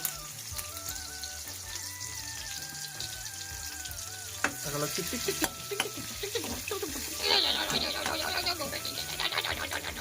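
Tempering spices spit and crackle in hot oil as a spoon stirs the pan, the popping growing busier and louder midway, with a steady sizzle beneath and a faint tonal hum in the background.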